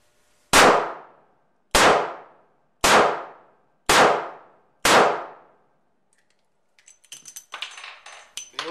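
A 637 revolver fired five times in a steady rhythm, each sharp, loud crack decaying quickly, followed after a pause by a flurry of metallic clinks and rattles as the spent shells drop out.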